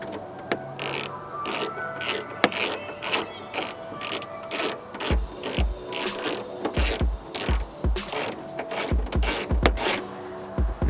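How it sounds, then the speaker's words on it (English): Ratchet tightening bolts on the spoiler of an EP3 Honda Civic Si, close clicking bursts in quick repeated strokes with brief pauses between runs, no talk. "I'm just going to go ahead and tighten up all the screws and bolts and nuts"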